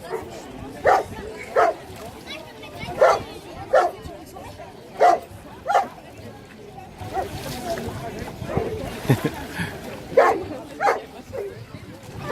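A water rescue dog barks repeatedly in short, evenly spaced bursts, fairly close, with people talking in the background at a rescue dog demonstration.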